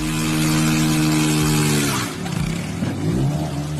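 A motorcycle engine revs hard and steadily while its tire spins in place, loud and close, with pitch dips and surges as the throttle is worked.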